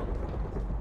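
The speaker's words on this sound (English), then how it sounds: "Thunder's so fucking loud." Rumbling thunder from a Minecraft storm fills the moment with a steady, heavy low roar, loud and continuous with no voices over it.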